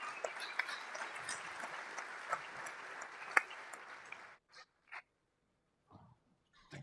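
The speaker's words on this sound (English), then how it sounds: "Big round of applause for our panel" Applause from a conference audience for a panel on high-speed rail and city-to-city connections, a steady patter of many hands for about four seconds before breaking off into a few scattered, fading claps.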